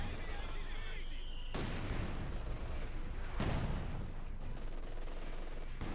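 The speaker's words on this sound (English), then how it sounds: "Lots and lots of light machine gun fire." MG42 light machine gun fire rattles in Company of Heroes 2, sustained bursts with sharp onsets around two and three and a half seconds, mixed with other battle gunfire, loud and dense, over a talking commentator.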